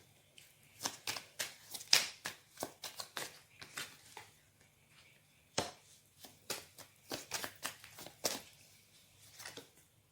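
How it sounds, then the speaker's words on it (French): Tarot cards shuffled by hand at close range, a run of soft crisp riffles and slaps in short bursts with brief pauses, quiet and alone. "Les cartes sautent."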